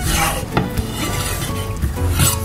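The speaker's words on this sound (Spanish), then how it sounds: "voy a rebanar solamente unas 2 o 3 rebanaditas" A knife slices traditional bacon on a cutting board for Jalisco-style carne en su jugo, with close scraping strokes and light knocks against the board in a steady sequence, with no talking.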